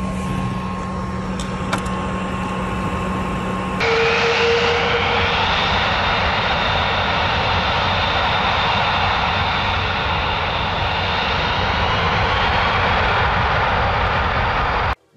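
A PlayStation 4 running God of War Ragnarok blows its cooling fan. A quieter hum with faint tones swells after about four seconds into a loud, steady, jet-like whooshing roar that holds until an abrupt cut.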